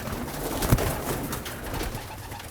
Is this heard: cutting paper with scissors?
no